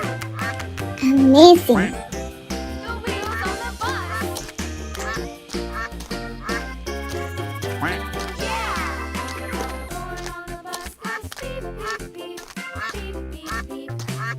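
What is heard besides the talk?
duck quack sound effect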